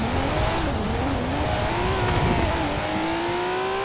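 A Mercedes car in Forza Horizon 4 drives hard with a loud, steady engine drone and rising revs, tires squealing throughout, close and continuous with no talk.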